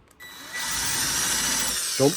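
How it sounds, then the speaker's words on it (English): A power drill runs in reverse with an oversized bit, countersinking a hole in a cigar box guitar, whirring up and running steadily at high speed, close by, with a brief knock at the start and a thump near the end. "I get an oversized drill, and then I get it so it's spinning backwards"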